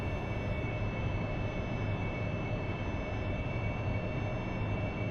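Steady, loud roar of an AV-8B Harrier jet engine in a flight simulator, a constant broadband rumble with a thin high whine on top, continuous and unbroken throughout.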